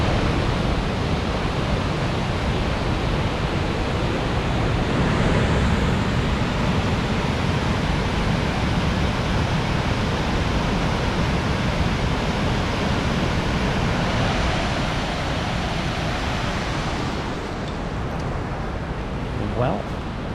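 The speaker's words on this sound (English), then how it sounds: "Well, that is Wells Falls." Wells Falls pours into a canyon near Ithaca, a loud constant broadband rush of water that stays steady throughout, with faint talk.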